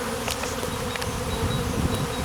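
A small secondary swarm of honeybees buzzes outdoors, a dense, steady, droning hum that fills the whole moment without a break.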